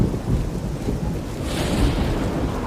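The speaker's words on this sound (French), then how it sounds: "Et il pleut." Heavy rain hisses steadily at 1 a.m. with a deep rumble of thunder rolling underneath, dense and close, with no voices.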